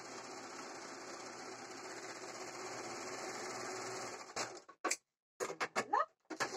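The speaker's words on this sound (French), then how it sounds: "nos extrémités, on va les passer à la surjeteuse" Overlocker serger finishing the edges of fabric pieces for a rockabilly top, a steady close rapid mechanical whir for about four seconds, then stopping, followed by a few short handling clicks and brief bits of a voice.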